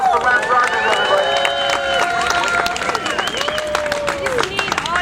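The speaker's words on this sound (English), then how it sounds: "Big round of applause for Lance Rogers, everybody" An outdoor crowd at a medical cannabis rally claps and cheers for a speaker, a loud, continuous patter of many hands mixed with voices and sustained tonal sounds.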